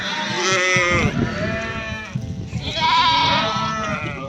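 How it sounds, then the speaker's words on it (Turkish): Loud, close sheep bleats on a farm, two long wavering cries with a brief pause between them, no talking. "Bu benim koyunlar arkadaşlar."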